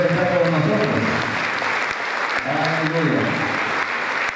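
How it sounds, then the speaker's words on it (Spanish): A church congregation claps in sustained applause at a fiftieth-anniversary celebration service, a dense steady roar of hands mixed with cheering voices, loud and continuous throughout. "Den una ofrenda de palmas los que crean que el Señor está con nosotros."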